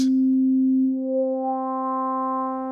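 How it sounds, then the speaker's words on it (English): A pure synth tone gains harmonics as a resonant filter sweeps upward, turning brighter and sharper while the note holds steady. "Turn the resonance up. You can hear that sharpness and that emphasis on where the cutoff frequency is set."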